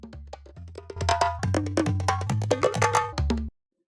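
A short percussive sample pitched up and played back in Ableton Live 11.1's Tones warp mode, a run of quick bright pitched hits with ringing tones, close and clean, stopping abruptly after about three and a half seconds.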